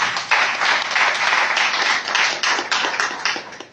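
A church congregation applauds after a sermon's closing prayer, a dense, steady wash of many hands clapping at close range, holding for several seconds with small swells and no talk.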